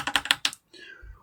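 Quick bursts of computer-keyboard typing while entering a terminal command, about half a dozen close, crisp key clacks in a rapid run, then a brief pause and a softer trailing tone.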